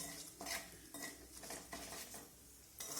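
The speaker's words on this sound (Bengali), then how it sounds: "ফোড়নটাকে এখন আমি ভেজে নেব।" Five-spice seeds, bay leaf and dried chili frying in oil, heard as a faint sizzle with a few soft scrapes and clinks of a spoon stirring in the pan.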